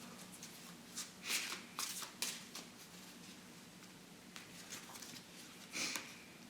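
Oracle cards are shuffled and drawn by hand, giving soft papery riffles and several brisk flicks, close and quiet, with no talking.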